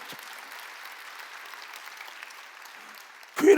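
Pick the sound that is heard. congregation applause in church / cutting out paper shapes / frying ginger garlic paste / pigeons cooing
congregation applause in church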